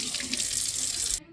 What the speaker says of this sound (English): Just run it underneath the sink, and look at that.